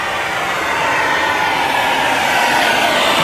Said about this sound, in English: take a torch and make sure it's nice and dry for welding